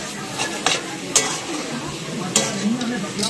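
Fresh kochu (taro) greens with prawns and coconut are stirred in a sizzling pan, a spatula scraping and clinking against the metal in a few sharp strokes over a steady fry, with a brief voice.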